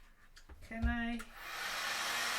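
A heat gun warms cosplay shoe armour for a Sisters of Battle costume: a short steady blowing hiss starts after a brief clatter and tone, continuing close and fairly quiet to the end.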